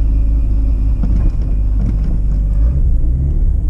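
A Mazda RX-7 rotary engine idles as it warms up, giving a loud, close, steady low rumble that runs throughout with no voices.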